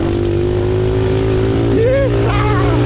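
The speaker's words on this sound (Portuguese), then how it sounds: "trilha de mini moto" A mini motorcycle on a dirt trail holds a loud, steady engine drone that climbs in pitch as it revs near the end, with voices talking over it.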